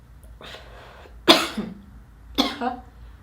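Three sharp coughs, close and fairly loud, spaced apart by brief quiet pauses.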